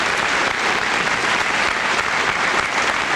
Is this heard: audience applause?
yes